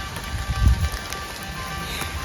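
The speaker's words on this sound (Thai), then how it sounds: "แต่ว่าฝนตกเนาะ ตกก็ตกก็เรื่องของฝน" Rain falls steadily in a forest during mushroom foraging in a soft, continuous patter, with a brief thump near the start.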